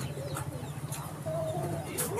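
A golden chicken clucks among birds at a large bird market in Sialkot, short calls heard over busy market background noise, with a faint higher bird call near the end.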